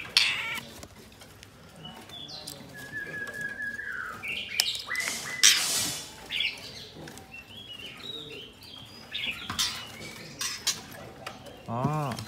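A newly wild-caught male white-rumped shama gives short whistled calls and chirps amid clattering and handling noises in a quiet room.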